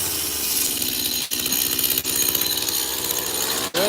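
Chainsaw running outdoors for wood carving: a loud, steady buzzing engine drone held throughout, with a few brief dips in the revs, no speech.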